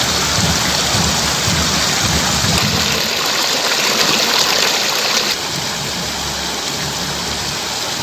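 Heavy rain falls in the Javvadhu hills near Arani, Tiruvannamalai district, as a loud, dense, continuous hiss that eases slightly toward the end.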